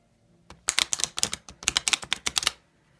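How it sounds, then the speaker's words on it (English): Hungarian Gypsy Oracle fortune telling cards, a flimsy deck, are shuffled by hand in a quick run of crisp, close riffling snaps and flicks lasting about two seconds, with no talking. "So I'm going to use this Hungarian Gypsy Oracle first to shuffle."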